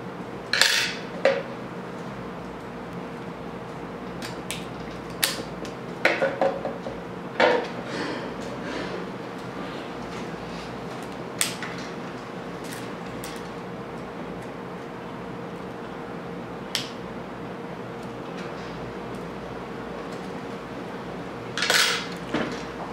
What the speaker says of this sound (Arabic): نفك على الخزان حاجة بسيطة بس. هنفك المسمار ده والمسمار اللي بعده.